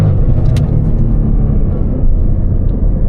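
A Ford Mustang GT with a 10-speed transmission rumbles loudly and close as its engine revs after slipping into neutral, a heavy steady drone with no talk.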